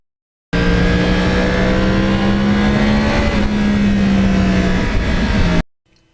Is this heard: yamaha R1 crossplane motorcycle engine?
yes